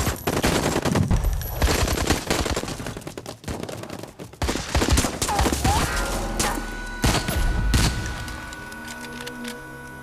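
Dense, loud gunfire from an action movie dubbed in Hindi, with bursts of fusillade and machine-gun fire and occasional booms running nearly continuously over ten seconds, with a brief lull around the middle.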